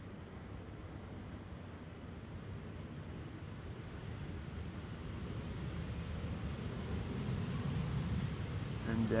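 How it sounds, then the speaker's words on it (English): A Cargolux cargo plane taxiing at Amsterdam Schiphol near the Polderbaan, heard as a steady, distant low rumble of jet engines that slowly grows louder toward the end. "Cargo lux is now vacating from the Polderbaan area and will be taxiing to the main platform area"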